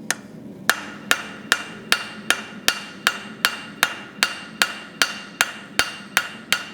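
A blacksmith's hammer striking hot steel on an anvil, a steady run of about sixteen sharp ringing blows at an even, brisk rhythm, close and loud.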